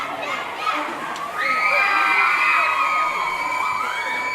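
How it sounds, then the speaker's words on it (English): A crowd of parents cheers at a school homecoming soccer game, with loud, sustained shouts and whoops that swell sharply partway through and hold at full volume in the open air. "we have a great crowd today. The cheer, we have about a lot of parents here as well"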